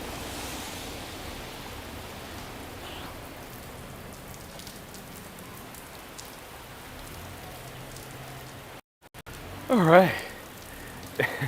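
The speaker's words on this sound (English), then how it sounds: "Heavy rain right now, so I will be getting soaked if I continue walking around" Heavy rain pours down in Old San Juan, Puerto Rico, a steady, dense hiss of drops on the streets, with a brief voice speaking near the end.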